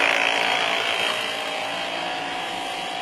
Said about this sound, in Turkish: lastik pompası